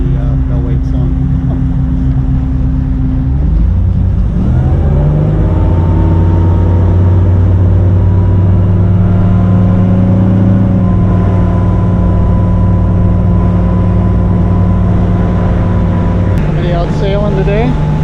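A motorboat on the Lake Leelanau channel in northern Michigan throttles up, its loud engine drone rising in pitch and holding steady at close range, with wind and water rushing around it.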